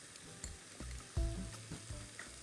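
Tomatoes and green chilies frying in a pan for fish curry, a steady sizzle broken by several clunking stirs and scrapes of a spoon, close and moderately loud, with no talking.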